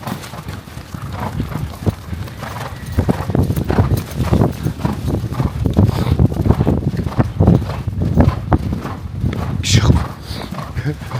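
Two Mongolian horses walk with a steady, close clip-clop of hooves that runs throughout, while someone talks over it and a whinny or other horse sounds come now and then.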